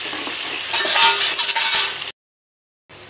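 Garlic, ginger and onion paste roasts over a low flame while being stirred, a close bright sizzle with scraping and clinks for two seconds, then a sudden cut to silence and a brief return.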